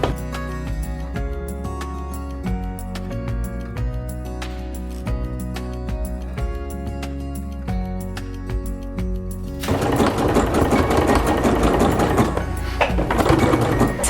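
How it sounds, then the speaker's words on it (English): A sewing machine running steadily while zigzag stitching a repair on ripped shorts, with an even mechanical hum and rhythmic ticking, turning louder and noisier over the last few seconds. "I decided to make my zigzag down and go up only because it's easier to get it underneath the sewing machine"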